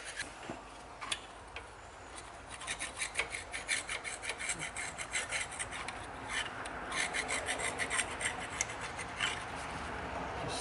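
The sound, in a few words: scraping silicone gasket off engine block with flat blade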